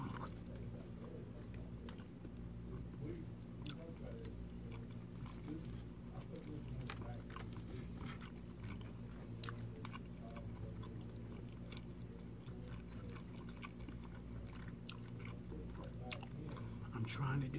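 Chicken curry chewed close to the microphone in an ASMR style, with soft wet mouth sounds and occasional crisp bites over a low steady background hum, and no clear speech.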